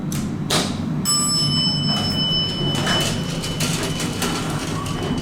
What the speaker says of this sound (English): Awesome chime.